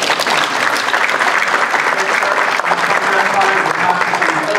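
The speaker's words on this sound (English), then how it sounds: "let's give a round of applause for the Gateway Christian Church" A community-event crowd at a church gives a loud, sustained round of applause, dense and continuous from start to finish, with a voice faintly audible beneath it.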